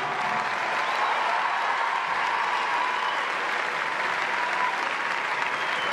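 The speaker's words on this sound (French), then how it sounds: "faites-leur un tonnerre d'applaudissements encore" A magic-show audience claps in a dense, continuous roar of applause, steady and loud throughout with no break.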